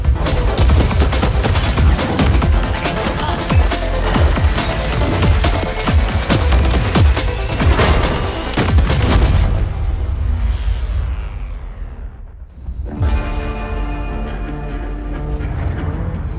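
Gunfire from the sci-fi shooter Borderlands 4: loud, dense volleys of rapid shots and booms over a heavy rumble, then a brief sweep and a drop into quieter music-like tones.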